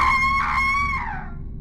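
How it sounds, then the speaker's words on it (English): A creature in a horror video game demo lets out a loud, shrill scream while charging at the player, one sustained wailing cry that falls away toward the end. "Something came running at me screaming."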